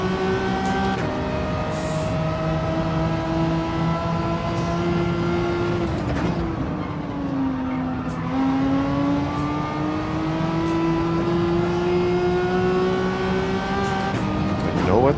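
A Gran Turismo 7 race car engine holds a sustained, high-revving whine during an overtake at Trial Mountain, with its pitch dipping at a gear change and then climbing again. The engine is loud and close throughout.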